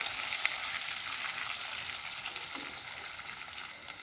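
Ingredients for sugar sambol fry and get stirred in a pan. A dense, steady sizzle runs close and fairly loud, with light crackle and a soft scrape or knock near the start, and no voices.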